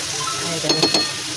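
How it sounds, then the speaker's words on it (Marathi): Ridge gourd (gilke) hitting hot oil in a pan, a steady sizzle with a few clinks and stirring scrapes near the end, close and fairly loud. "तेलामध्ये परतून झाल्यानंतर मी आता गिलके सोडायचे"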